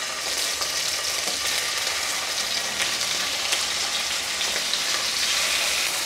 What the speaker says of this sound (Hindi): इसमें अभी मैं डालूँगी ये चिकन, चिकन पीस को ना मुझे पहले अच्छे से फ्राई करके लेना है